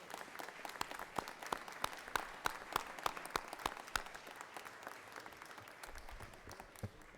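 A gallery in the Georgia Senate chamber applauds a group of young farmers, steady clapping from many hands heard from a distance, fairly faint and fading toward the end.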